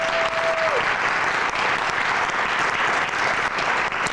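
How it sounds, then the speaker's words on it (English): A large crowd applauds at a coding competition event, loud sustained clapping throughout, with a brief tone sliding down near the start. "please join me for a round of applause for these remarkable individuals"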